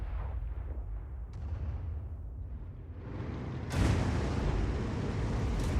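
A Bat.-Châtillon 155 55 artillery gun fires in the World of Tanks video game, a sudden loud booming blast that rolls on after a quieter stretch of distant battlefield rumble.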